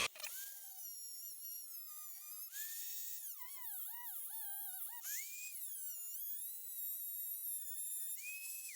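An old cutoff wheel grinds through music wire with a thin, high-pitched whine that wavers and dips as the cut loads and eases. It is fairly quiet, with brief pauses between passes.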